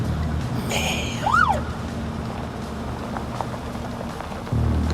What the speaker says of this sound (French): Oh, une sirène.